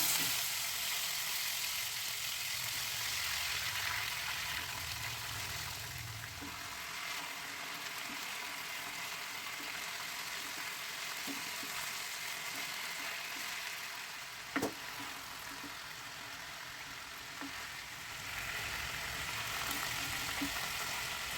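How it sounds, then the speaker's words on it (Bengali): Chicken pieces fry lightly in tempered oil with a moderate, steady hiss at close range, broken by a few light taps and clicks from the pan. "ওগুলোকে আমি হালকা করে ভেজে একটু তুলে নিলাম"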